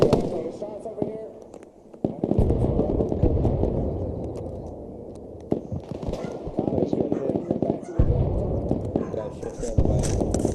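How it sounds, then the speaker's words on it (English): Gunfire crackles in sharp bursts and single shots during a military training exercise, loud and near, with voices talking and calling out between the reports. "Shots over here."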